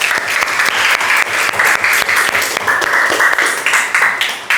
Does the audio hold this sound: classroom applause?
yes